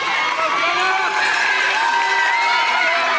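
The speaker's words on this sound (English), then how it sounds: "You can see there is quite the crowd there for these athletes cheering them on." A large crowd cheers and shouts continuously at a New Hampshire middle school girls' state cross-country championship race, close and loud, with children's voices whooping and calling out throughout.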